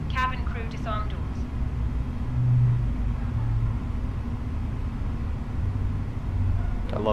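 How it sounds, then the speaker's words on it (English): Parked Airbus A320 airliner with its engines shutting down: a steady low rumble with humming tones that slowly settles. A brief voice is heard at the very start. "I love the sound of the engines turn off."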